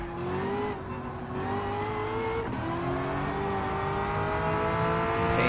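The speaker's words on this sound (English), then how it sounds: "Now gonna have to catch up to Elim on the 8th generation Corvette Stingray and M. Hoppity in the Nismo 400R 1995." A race car engine drones loudly and steadily in Gran Turismo 7, with the pitch climbing and falling through gear changes as an eighth-generation Corvette Stingray and a 1995 Nismo 400R compete, alone with no talk.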